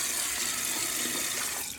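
Warm tap water runs steadily from a faucet at close range, a continuous loud hiss and splash while hair is being wetted, with no pauses.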